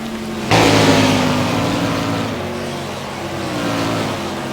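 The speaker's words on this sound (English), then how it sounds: "there's a view from the trackside camera as the field flies past" A pack of NASCAR stock cars in a racing video game set in Japan roars past a trackside camera. The loud engine surge hits suddenly, then the pitch drops and fades as the field speeds away.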